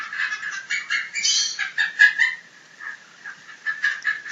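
A pet bird, likely a parrot, gives a run of chattering, cackling calls that sound like laughter, rapid and fairly close, with brief pauses between bursts.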